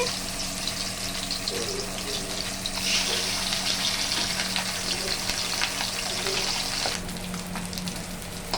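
Two fish frying in hot oil, a steady close crackling sizzle with light popping that carries on evenly, briefly easing toward the end.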